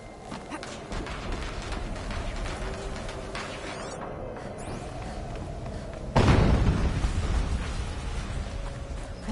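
Explosion in the video game Horizon Zero Dawn Remastered: a sudden loud boom bursts in around the middle, over continuous game ambience and rumble, then decays slowly.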